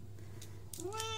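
A pet cat named Timmy gives a single short, rising meow close by, following a quiet moment with light background noise.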